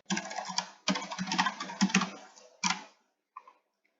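Rapid clattering keystrokes on a computer keyboard, close and fairly loud, in quick bursts with short pauses, ending with a few isolated taps.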